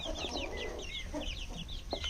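Chickens clucking and calling close by in a yard, with repeated short bird notes scattered across the clip and a low steady background hum.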